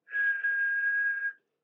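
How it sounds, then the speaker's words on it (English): A railway guard's whistle gives a single clear, steady blast lasting just over a second, alone with nothing else around it. "The guard blew his whistle"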